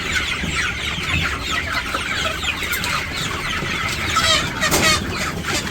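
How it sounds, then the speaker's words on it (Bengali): Chickens cluck and chatter continuously in a busy, noisy setting, with several birds overlapping and no clear voices. "আর একটা বড় মোরগ ধরে নিয়ে দিই, বড় মোরগ ধরে নিয়ে একটা।"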